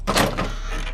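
A door swings open with a single quick burst of creak and rattle, followed by a fading roomy tail, close and fairly loud.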